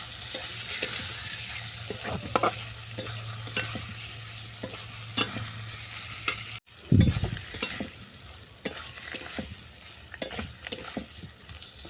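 Hilsa fish head and elephant foot yam greens being sautéed in a pan with other ingredients: steady sizzling frying under repeated scraping stir strokes, with one heavier clunk of the utensil against the pan midway.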